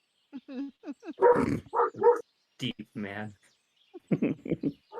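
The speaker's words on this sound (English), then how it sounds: "So sorry, that's my dog." A dog barks a few times in short bursts close by, interleaved with someone talking.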